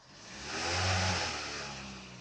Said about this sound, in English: when I try to rev the engine, it only goes up a tiny bit